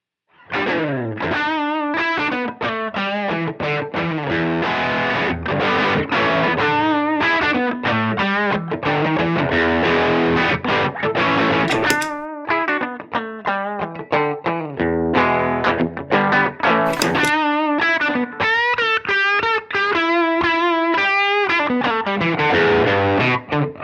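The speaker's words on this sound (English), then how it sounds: "now let's try the distortion circuit only" Heavily distorted electric guitar through a ZVEX distortion pedal plays continuously and loudly, gritty crunchy chords and notes ringing out with a thick saturated tone throughout.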